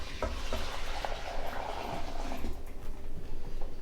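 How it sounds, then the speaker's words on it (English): A spoon stirs thickening zeppole cream of cornstarch and eggs in a cooking pot, giving soft scraping and sloshing with faint bubbling at an even, continuous pace, close and moderately quiet. "then we're just going to keep stirring until it thickens"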